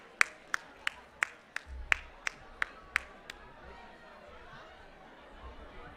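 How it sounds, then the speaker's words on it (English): About nine sharp, evenly spaced claps ring out in a room at a caucus gathering, crisp and fairly close, then stop and leave quiet crowd murmur. "Let's give him another round of applause"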